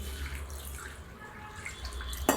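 Water splashes and trickles softly as flattened rice (poha) is rinsed in a bowl, ending with a brief louder splash.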